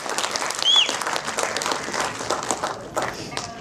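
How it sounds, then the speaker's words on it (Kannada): An audience claps and cheers for producer Muniswamy at a Kannada film re-release celebration, a sustained burst of applause from a crowd, moderately loud and steady throughout. "ನಮ್ಮ ಮುನಿಸ್ವಾಮಿ ಅವ್ರಿಗೆ ಒಂದು ಜೋರಾದ ಚಪ್ಪಾಳೆ ಬರಲಿ."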